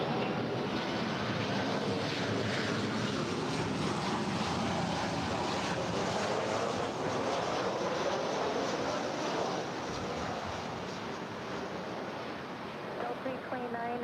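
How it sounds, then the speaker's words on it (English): An American Airlines airliner arriving at LAX from Austin, a wide, rushing engine roar that stays loud and even throughout, easing slightly near the end. "our next arrival is American Airlines Flight 533 coming in from Austin"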